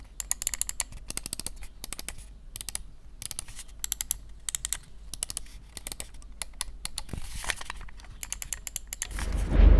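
Rapid, light clicking of a Dareu A950 wireless gaming mouse's buttons in quick bursts and single taps, close and crisp, with brief pauses between runs.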